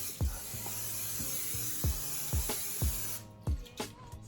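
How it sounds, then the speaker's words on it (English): Canola oil spray hisses in bursts into an air fryer basket over raw chicken, a continuous aerosol spray punctuated by several sharp clicks and taps of the can, up close and loud. "this is oil, and I spray it on the bottom of the air fryer for it can fry the chicken."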